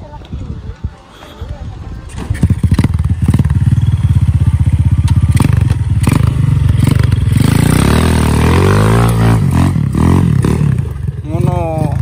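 An ATV engine roars loudly while riding an off-road trail, rising from idle into sustained revving with clattering rattles, close up, with voices underneath.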